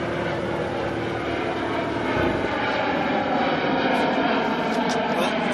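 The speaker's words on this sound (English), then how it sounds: "Just in time for the airplane taking off." An airplane taking off overhead, a loud continuous engine roar that holds steady and grows slightly over several seconds.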